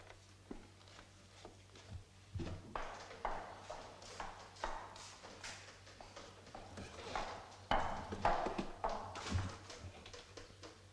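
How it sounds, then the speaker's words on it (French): An old rocking horse creaks and knocks in a hall in a 1982 French vampire film, giving scattered soft taps and clatters at uneven intervals, faint and somewhat distant, with no voices heard. "Juste un vieux cheval à bascule."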